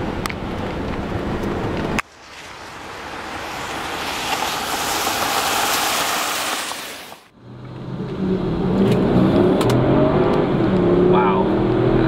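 Porsche Cayenne Turbo engine accelerating hard, a loud sustained roar that builds steadily and then cuts off abruptly, followed by quieter cabin sounds with someone speaking.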